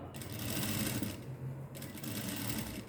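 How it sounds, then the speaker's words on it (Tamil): A sewing machine stitches a shoulder seam on fabric with a steady, close mechanical whir that runs almost without a break. The needle chatters rapidly, and no one speaks. "க்ளோஸ் பண்ணி தைச்சிட்டு வாங்க"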